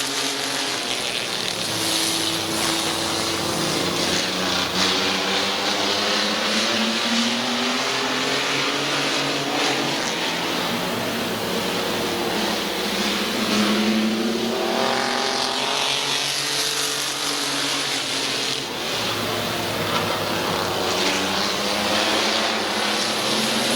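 Mini trucks roaring at the start of a 12-lap feature race at Midvale Speedway, engines droning loud and continuous as the pack passes, with pitch sweeps rising and falling for the full stretch.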